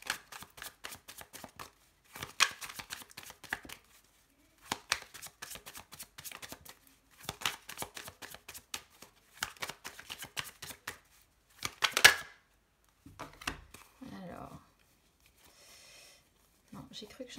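Tarot cards shuffled by hand in repeated rapid riffling bursts separated by short pauses, close and crisp, with someone speaking softly near the end.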